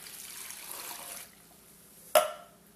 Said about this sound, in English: I mix half of the by Thoy and 2 cans of the water